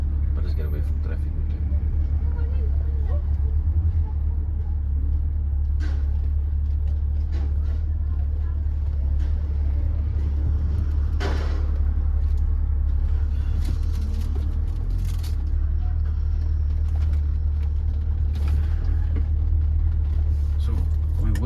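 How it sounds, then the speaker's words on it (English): A BMW E30 325i with an automatic gearbox idles with a steady low rumble, close to the microphone, while people talk over it throughout. "you guys can hear this car idling"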